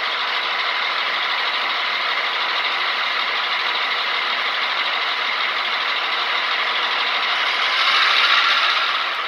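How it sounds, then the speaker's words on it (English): An Athearn Genesis F7 model locomotive with a Tsunami 2 sound decoder runs its engine, a loud steady mechanical diesel drone holding even throughout and swelling slightly near the end. "And as you can hear, the engine is very loud."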